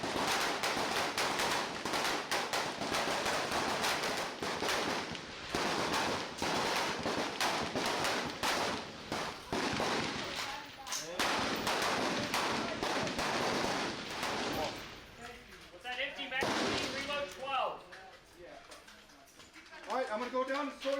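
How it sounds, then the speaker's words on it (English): Rifles fire during basic military training target qualification, with rapid, dense shots crackling almost continuously, then thinning to scattered reports near the end. People talk throughout. "During the actual firing, trainees will fire at a man-sized target at 75, 180, and 300 yards in the standing, sitting, kneeling, and prone positions"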